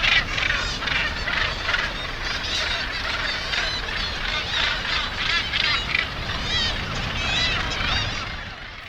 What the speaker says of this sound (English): Bass Rock, the Alcatraz of Scotland, home to the planet's largest colony of gannets.